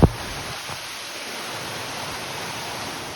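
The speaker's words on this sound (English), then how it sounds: "that's a legitimate waterfall up there" Waterfall cascading on the Appalachian Trail in Massachusetts, a steady distant hiss of falling water, faint and even throughout, with a brief knock at the start.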